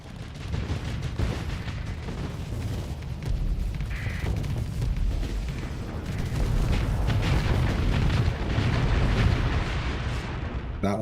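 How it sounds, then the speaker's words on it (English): A sustained, roaring explosion rumbles in the space strategy game Starsector, thick booming blasts rolling continuously amid battle noise, loud and close throughout. "That one definitely was the explosion."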